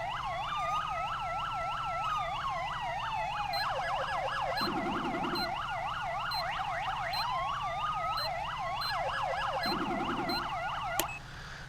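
A rapid electronic code 3 RLS siren yelp from a police roleplay video game warbles continuously, layered with a second wailing tone, loud and close, with a low horn-like blast recurring twice and a sharp click at the end.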